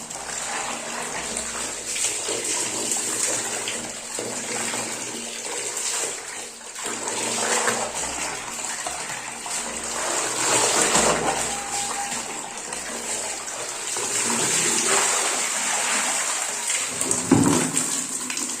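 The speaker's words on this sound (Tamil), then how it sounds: "இதே மாதிரி இன்னொரு சேலையை நம்ம அலாசிக்கலாம்." A saree is rinsed by hand in water, giving continuous sloshing and splashing that swells and fades in waves. Occasional louder splashes rise near the end.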